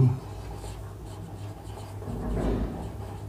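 Pen writing an answer on paper, a faint soft scratching close by under quiet room noise.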